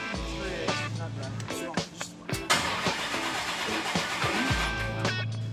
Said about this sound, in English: There's often hitches when a brand new engine is first turned over, but Barry takes it personally.